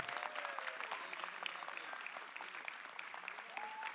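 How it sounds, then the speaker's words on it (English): Steady audience applause at an evening cultural performance at a youth summit in India, dense and continuous with crowd murmur beneath, moderately distant and filling the hall. "let's give a big round of applause to all of them."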